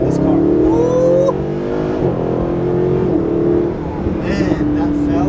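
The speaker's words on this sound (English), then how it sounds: "let's accelerate and see what that feels like in this car" A 2012 Mercedes SLS AMG with the 6.3-litre engine accelerates hard on an empty road. Its loud, close engine note climbs steadily in pitch throughout.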